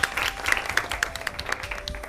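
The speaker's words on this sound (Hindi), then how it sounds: "let's give a big round of applause to yourself" A quiz show audience claps together in a brisk, fairly even rhythm, moderately loud and close, without talking over it.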